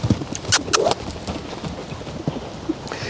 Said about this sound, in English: Let me see if I can get him to lope.